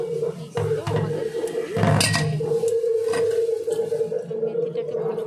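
Soaked fenugreek seeds are washed in a metal bowl with water, giving close clinking, scraping and sloshing sounds over a steady hum.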